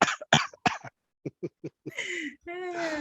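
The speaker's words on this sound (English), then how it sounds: "I got this cough" A few short, sharp coughs in quick succession, followed by a throat clearing and some talking.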